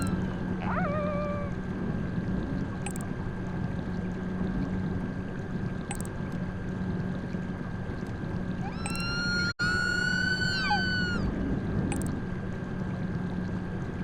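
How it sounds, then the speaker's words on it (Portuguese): In the GTA V ocean, orca whistles and squeals rise and fall over a steady underwater hum, with a brief call early and a clearer swooping run later, plus faint periodic clicks. "Olha o barulho da orca de novo, né?"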